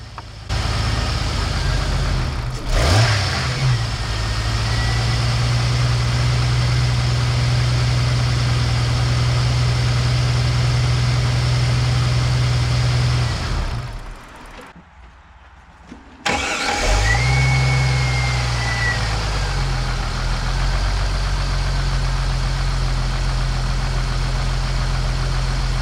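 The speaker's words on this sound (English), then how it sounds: "I think it's idling pretty well" A Jeep Wrangler engine idles steadily with a low, even rumble after a fuel pump replacement, briefly cutting out midway before starting again and settling back into a smooth idle.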